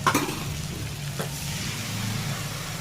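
Spice paste with turmeric sizzles in hot oil in a pan with shrimp and pointed gourd for a Bengali curry, a soft, steady frying hiss with a brief stirring clatter at the start.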